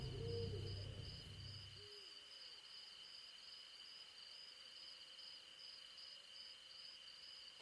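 A tawny owl hoots once, a low, wavering call at the start, followed by near silence with a faint steady electronic hum.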